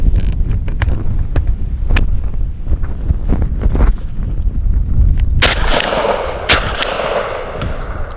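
Citadel RS-S1 shotgun firing outdoors, a series of sharp, loud booming blasts with rumbling echo between them, ending in a brighter crack followed by a washing, windy tail.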